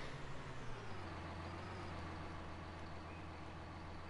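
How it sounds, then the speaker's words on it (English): A tractor engine runs steadily during a canola harvest, a low droning hum that drops slightly in pitch early on and then holds constant, with broadband road and mechanical noise around it. "This tractor does sound a little different"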